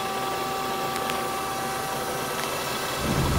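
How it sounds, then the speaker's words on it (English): Kitamura MyCenter 7X vertical machining center with full enclosure and geared head, spindle running steadily at speed, a constant mechanical hum with high whine, louder low rumble near the end. "There we go, Kitamura MyCenter 7X"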